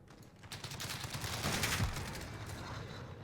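Rapid gunfire bursts from Call of Duty multiplayer with an M4A1 setup, a dense loud fusillade of overlapping shots building and holding for a few seconds, no voices.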